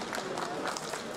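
A crowd cheers and claps for the Chungcheong joint delegation arriving at Incheon Airport after winning the World University Games bid. The noise is a short, dense, steady wash of applause and cheering.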